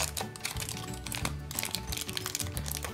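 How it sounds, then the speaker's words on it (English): Aluminium foil being folded by hand around a pressed picture, heard as close, busy crinkling and crackling in dense uneven bursts, moderately quiet, with no talking. "you just fold your foil around."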